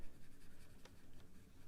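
A Faber-Castell Polychromos colored pencil scratches across paper in soft, quick rhythmic strokes, close and very quiet, with a couple of sharper scrapes in the middle.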